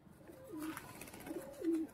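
A pigeon coos softly a few times, low throaty calls rising and falling against a quiet background.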